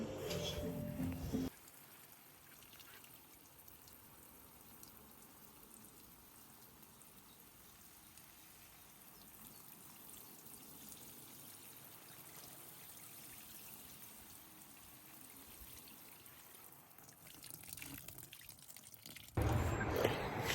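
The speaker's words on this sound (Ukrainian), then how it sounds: "Я ще вийшла полити квіти" Water trickles and drips softly while outdoor flowers are watered, a faint, steady patter throughout, with louder handling noises at the start and end.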